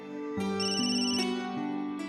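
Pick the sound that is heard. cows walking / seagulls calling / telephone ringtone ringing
telephone ringtone ringing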